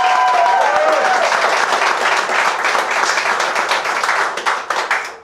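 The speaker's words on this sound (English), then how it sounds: "How about a round of applause for these kids?" Wedding guests at Graceland Chapel in Las Vegas applaud a couple during an Elvis-themed ceremony, a loud, steady wash of clapping that fades near the end, with a brief whistle or cheer early on.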